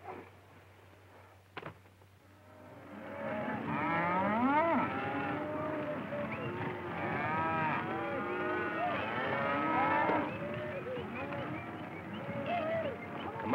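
A herd of cattle on a Montana range moos repeatedly, with many overlapping drawn-out lows from several animals at a moderate distance that carry on for most of the stretch after a quiet start.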